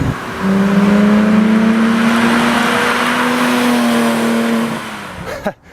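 A Porsche 911R engine runs at a loud, steady high pitch for several seconds, close by, then drops off abruptly into a short clatter and a fading tail.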